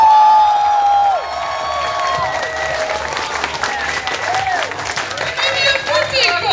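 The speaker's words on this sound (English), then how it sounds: "Give me an applause." A convention panel crowd claps and cheers loudly at a Nostalgia Critic and Egoraptor panel at Shadocon 2012, a dense burst of applause with whoops and shouts that carries on for several seconds.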